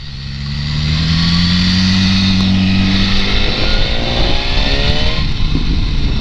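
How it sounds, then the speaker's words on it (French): A BMW S1000R motorcycle revving hard and then dropping off throttle, the steady engine drone breaking into crackling pops from the exhaust, loud and close. "Des petits retours de flamme à l'échappement"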